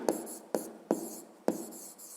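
Handwriting on paper for a fifth-grade maths exercise, four quick pen strokes with short scratchy attacks and brief pauses between them, close and fairly quiet with no talking.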